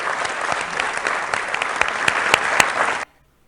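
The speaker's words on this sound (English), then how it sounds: "you actually get a big applause line for Medicare for all" Town hall audience applauding loudly for Medicare for all, dense crowd clapping that runs for about three seconds and then cuts off abruptly.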